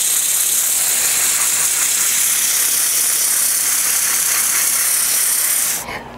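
Steady, loud, hissing rasp of sandpaper working continuously over a wooden sphere, an unbroken abrasive scratch that drops away abruptly at the end.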